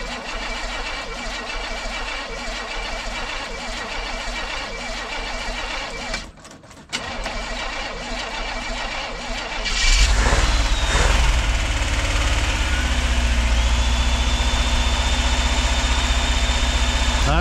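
A V8 engine mounted on a wood splitter cranks briefly, then fires up about two thirds of the way through and settles into a loud, steady idle.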